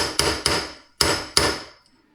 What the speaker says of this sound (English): just lightly take a hammer is what I had to do just to get it in